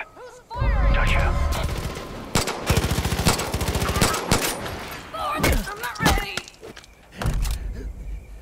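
Gunfire rings out in the open-world shooter Far Cry 5, a rapid rattling burst and several loud shots mixed with thuds and scuffles, while voices speak over the action.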